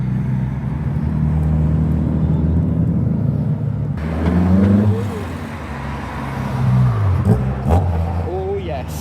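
Cars leave the exit of a car meet, with engines rumbling and revving close by as vehicles pull away one after another, and people talk loudly over the traffic.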